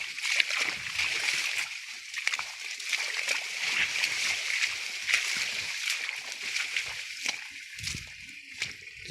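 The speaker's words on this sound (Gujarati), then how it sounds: "આપણે જઈશું ખૂંદતા ખૂંદતા" Someone wades through water in a flooded field, with repeated close splashes and sloshing as legs push forward in an uneven rhythm.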